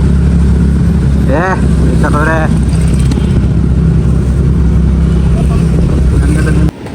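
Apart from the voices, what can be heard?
vehicle being driven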